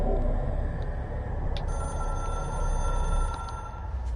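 Telephone ringing in the game Control over a dense rumbling room ambience: a continuous high electronic ring with faint chimes and clicks layered above, steady and close.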